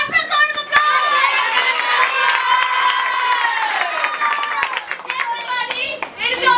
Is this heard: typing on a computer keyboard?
no